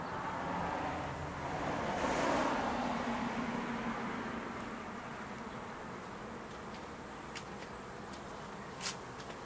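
Honeybees drone softly at the entrances of a healthy hive with three openings, making a steady, faint, low hum with no talking.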